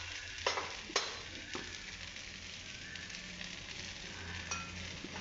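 Spices with turmeric, red chili powder and coriander-cumin powder sautéing in a pan, a soft steady sizzle with a few sharp stirring clinks near the start and one near the end, close and alone.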